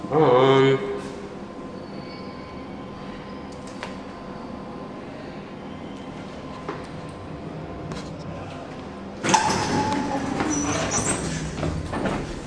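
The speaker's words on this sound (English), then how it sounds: "But there's this train with locked doors." Train standing at a DLR station at Canary Wharf, with low rumbling hum and clanks, then a louder burst of rushing, rattling noise near the end as it moves or doors operate.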